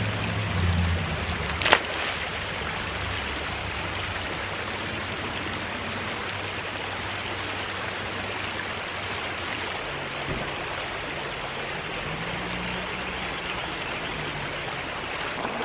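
A small creek flows steadily with a soft, even broadband rush, heard up close with a hose laid in the water; a brief sharp knock sounds early on, otherwise the flow stays constant throughout.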